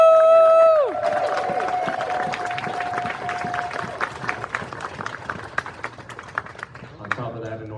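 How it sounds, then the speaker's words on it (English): A crowd at a furry convention's closing ceremony breaks into cheering and clapping after a sustained tone cuts off, scattered claps and whoops continuing loudly, then thinning toward the end. "Can we hear a great cheer for them for all the artwork and everything that they do?"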